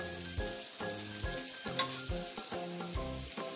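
Alu vadi pieces shallow-fry in a pan with a continuous soft sizzle and crackle, set against a rhythmic, repeating tonal backdrop throughout.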